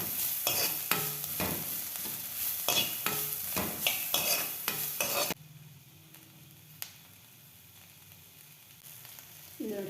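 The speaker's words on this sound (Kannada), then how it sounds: "ಚೆನ್ನಾಗಿ ಈ ಥರ ಫ್ರೈ ಮಾಡ್ಕೊಳ್ಳೋಣ." Gorekayi palya seasoning with curry leaves and coriander sizzles and fries in a pan, with repeated stirring scrapes for the first half, then quieter sizzling alone.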